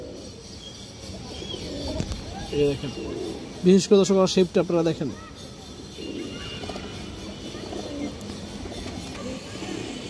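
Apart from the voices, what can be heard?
pigeons cooing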